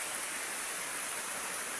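A river at a rural swimming spot in the provinces rushes in a steady, broadband wash, continuous and even throughout with no voices.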